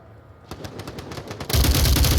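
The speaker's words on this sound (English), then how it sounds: "Shots from Box onto Gary over there in the west" Rapid automatic gunfire in the VR shooter Onward during a competitive VRML match, quieter bursts at first, then a loud, dense sustained volley filling the final stretch.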